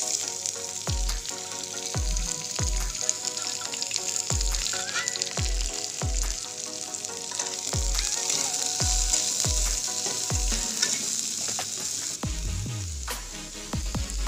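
Onion fries and sizzles in a pan after garlic, giving a steady hiss that runs continuously under background music with regular low thumps.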